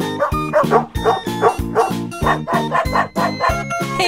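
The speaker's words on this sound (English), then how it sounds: "Dog." A dog barking in quick repeated bursts, about a dozen loud close yaps in a steady rapid rhythm with whimpering overtones, heard alone without speech.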